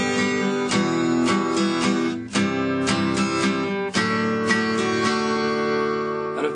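An acoustic guitar strums chords in a 3/4 waltz-time pattern: a single beat, two half beats, then a single beat, repeating in a steady, bright, ringing rhythm with no voice over it.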